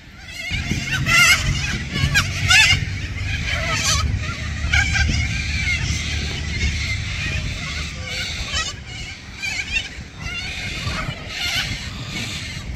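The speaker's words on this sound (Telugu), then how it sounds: "అండ్ ఇక్కడ బాతులు కూడా ఉంది." Ducks call at an outdoor pond on a cool, breezy day, their honking cries rising repeatedly over a steady background of wind and distant murmur, with people talking nearby.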